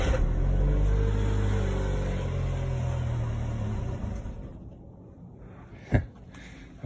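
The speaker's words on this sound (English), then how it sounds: "That's the fuel pump priming now. And then I just hit that start button." A kei truck cranked with its keyless start button gives a deep, steady engine rumble that fades away partway through, followed by a single sharp knock.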